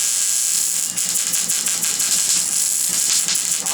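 A welding arc gives a steady, close, loud crackling sizzle much like frying bacon, sustained without pause throughout.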